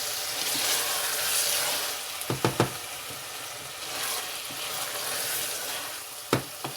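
Keema aloo, mutton mince and potatoes with coriander, sizzles steadily in a pan while a spoon stirs it, scraping in a few sharp clicks and knocks against the pot, close and with no talking.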